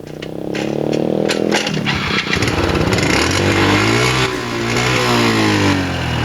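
A motorbike engine starts and roars loudly and steadily up close on the island of Flores, Indonesia, revving and shifting pitch as it runs, with no voices over it.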